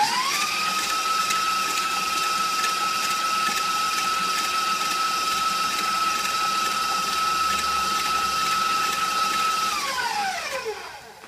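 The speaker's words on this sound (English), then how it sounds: "give it one more little mix for a few more seconds at about speed 4 to 6" An electric mixer creams sugar and shortening at a medium speed setting, giving a steady, loud motor whine with a constant pitch for about ten seconds before it winds down and stops. No one talks over it.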